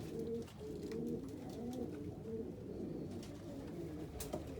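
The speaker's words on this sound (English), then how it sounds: "So I do like these crested homers." Crested homing pigeons in a loft coo softly and repeatedly in low, rolling phrases, several birds overlapping at a faint, fairly distant level with no talking.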